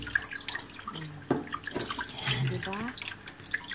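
Salted fish being washed under running water, splashing and trickling in short bursts with clattering handling, while a voice speaks briefly over it.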